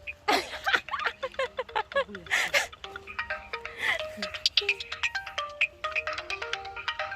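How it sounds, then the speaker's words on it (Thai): A telephone ringtone rings out loud and close in a repeating electronic melody of bright chiming tones, with a few brief voice-like sounds mixed in near the start, outdoors while collecting snails by the water. "โทรศัพท์"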